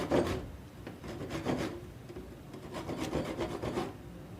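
A handsaw blade scratched across a wooden dowel in a rustic woodworking shop, including a peroba wood dowel: repeated rough rasping strokes in a steady rhythm, close and moderately loud, with no talk.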